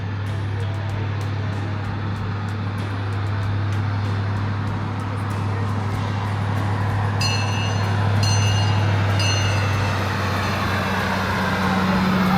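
A heritage park train rolls past with a steady low rumble and continuous rail and wheel noise that swells slightly as it goes by, loud and close throughout.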